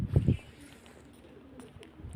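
A pigeon coos twice in quick succession at the start, close by, followed by a quiet stretch with faint background noise.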